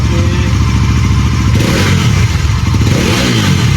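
A Bajaj Pulsar NS400 motorcycle idles close by and is blipped a few times, its engine note rising and falling in short revs over a steady throb.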